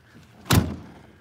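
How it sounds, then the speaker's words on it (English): A door on an International truck swings shut with a single solid thunk, close by and alone, with a faint trailing resonance afterward. "I might as well shut the door on the International while I'm over here."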